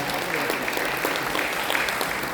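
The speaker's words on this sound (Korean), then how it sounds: "우리 안원 박사님께도 감사의 박수를 보내주시면 고맙겠습니다." A crowd at a political rally claps continuously, a dense wash of hands with a few sharper claps standing out, loud and close.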